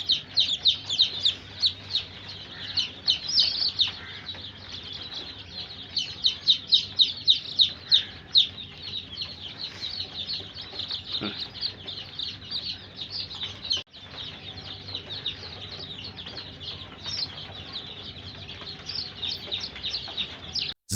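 Day-old chicks cheep constantly during vaccination, a dense, high-pitched chorus of overlapping peeps from many birds nearby, with no talk over it.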